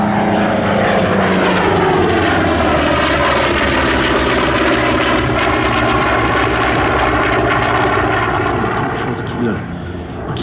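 A Vought Corsair propeller warplane roars loudly overhead at an airshow in Melun-Villaroche, its engine drone sweeping in pitch as it passes, briefly easing near the end.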